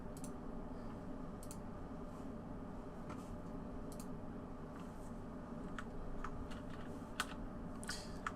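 Quiet keyboard typing, scattered clicks and taps in irregular bursts over a steady low hum, faint and close.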